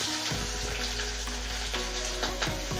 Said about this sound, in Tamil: இது எல்லாமே நல்லா எண்ணெயில் ஃப்ரை ஆகட்டும்.